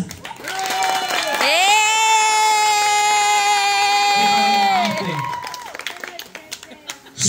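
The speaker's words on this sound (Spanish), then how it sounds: "¡Aplauso para mi Daya!" A studio audience claps for a contestant at a show's finale. Steady applause runs throughout while a loud, sustained voice holds a long shouted note over the middle, and the clapping tapers off near the end.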